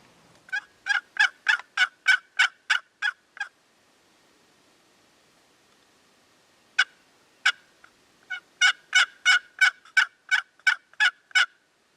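A wild turkey gobbles in two long rattling runs of rapid pulses, separated by a quiet pause with a couple of isolated calls, clear and fairly close, during a turkey hunt.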